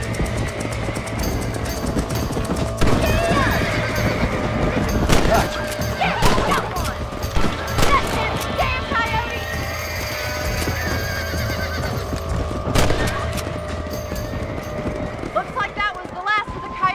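A horse in Red Dead Redemption whinnies and neighs repeatedly while hooves clip-clop and gallop, amid game noise with voices talking over it.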